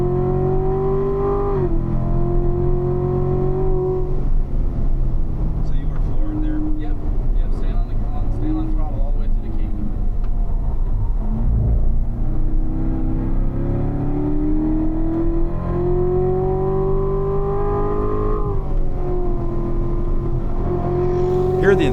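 A Corvette-class sports car engine at full throttle running downhill on a race track at a performance driving school, a loud steady in-car engine roar with rising and falling pitch as it shifts, with faint talk underneath.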